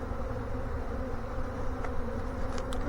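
A honey bee swarm buzzing steadily and densely at close range, a continuous droning hum with a few individual bees whining past near the end.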